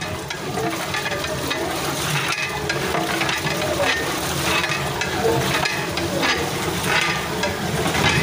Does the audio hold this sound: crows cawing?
no